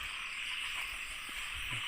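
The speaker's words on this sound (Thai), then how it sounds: "เสียงกบเสียงเขียด" Frogs croak on a night-time rice field, with a dense, steady chorus of calls and insect-like trilling filling the whole stretch and a few nearer, deeper croaks standing out.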